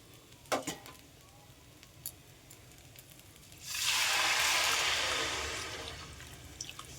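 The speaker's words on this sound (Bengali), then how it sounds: "এর মধ্যে আমি মেপে রাখা জলটা দিয়ে দেবো" Measured water poured into a pot of fried rice for a special basanti pulao, giving a sudden loud rushing hiss and sizzle that swells, holds for a few seconds, then slowly fades, after some faint earlier clinks.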